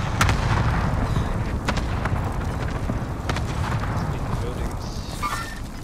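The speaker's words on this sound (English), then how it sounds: "Allied cluster strike inbound." Cluster strike explosions in the video game Call of Duty Modern Warfare, a series of dull booms and sharp cracks under steady game noise and in-game voice chatter.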